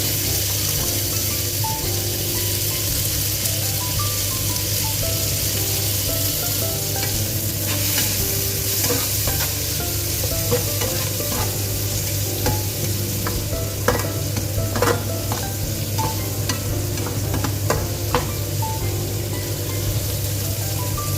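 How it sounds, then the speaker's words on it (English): Tomatoes for palak paneer fry in a hot pan with a loud, steady sizzle and crackle, broken by occasional stirring scrapes and clicks throughout. "Now it's time to add the tomatoes in there"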